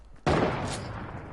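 A single sharp gunshot from a shooting video game bursts in suddenly and loud, followed by a sustained noisy ring-out that slowly fades, with no voices over it.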